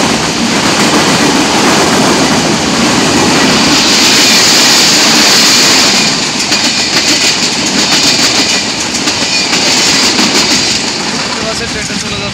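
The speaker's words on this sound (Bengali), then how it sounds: "দেখছেন কত দ্রুত গতিতে ট্রেন" The Sundarbans Express rushes past at high speed: a loud, continuous roar of wheels on rails with a rapid clickety-clack rhythm that holds steady throughout.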